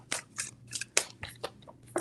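Tarot cards are shuffled in a quick series of about eight crisp, papery riffling bursts, close and fairly quiet, with short pauses between them.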